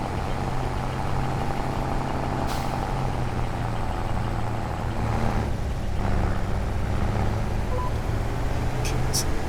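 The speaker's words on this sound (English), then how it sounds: "the sound of this engine reminds me of the sound of Jake brake that you can hear sometimes on American trucks going downhill" A truck engine with a rattling, staccato drone like a Jake brake rumbles steadily and loudly throughout, heard from nearby while on the road, with faint higher hisses layered over it.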